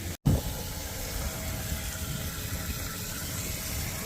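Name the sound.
fertilizer pump pumping water through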